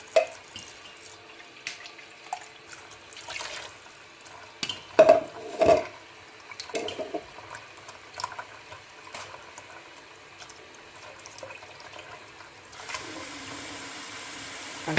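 Water poured into an eight-litre cooking pot for couscous with a whole cinnamon stick, splashing and trickling in uneven bursts with a faucet-like rush near the end, close and moderate, no speech.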